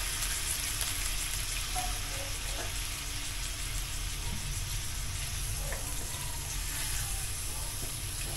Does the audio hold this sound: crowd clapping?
no